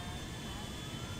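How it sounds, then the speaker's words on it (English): Airplane engine roar from a stolen 747 in GTA V, a steady, dense jet drone with a constant high whine running through it, even and unbroken throughout. "Oh, there's a plane in front of me."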